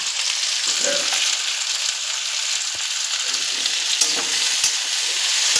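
Potatoes frying in a pan give a steady, dense sizzle close up, with a few faint clicks and scrapes of stirring and no talking.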